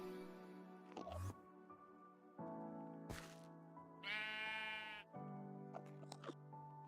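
Sheep in the Minecraft video game bleat repeatedly in clear, loud, wavering calls, one after another with brief gaps between them.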